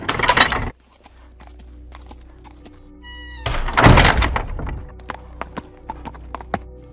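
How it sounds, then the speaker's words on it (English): A heavy wooden door thuds open abruptly without a knock, followed by hoof clip-clops and light knocks in a quiet space. "Knock first, Peirce"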